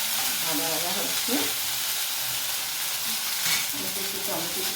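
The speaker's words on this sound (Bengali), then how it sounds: "ভাজা ভাজা হচ্ছে," Ginger and chili paste fries in a pan with a constant bright sizzle and crackle, with faint talking drifting in and out underneath.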